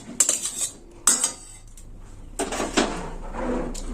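Boiled potatoes being mashed and mixed by hand in a metal bowl, with a few sharp clinks of utensils against the bowl followed by softer scraping and handling sounds, close up with no talking.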